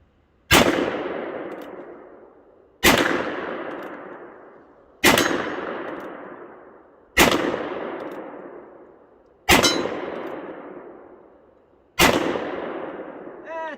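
A Cimarron Frontier single-action .357 Magnum revolver with a 5.5-inch barrel fires at steel targets about 20 yards away: six loud, evenly spaced shots, each a sharp crack followed by a long ringing decay, with no speech between them.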